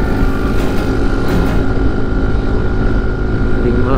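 A Honda Freego 125 scooter engine at full throttle climbing a steep uphill road, with a loud, steady, droning hum and heavy wind rush over the microphone.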